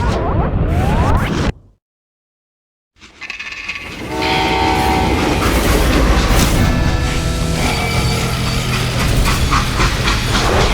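A freight train in the Call of Juarez: Gunslinger video game, a loud and steady rumble of wheels on track with clattering and tonal horn-like whines. It cuts out briefly to silence, then comes back and continues at full volume.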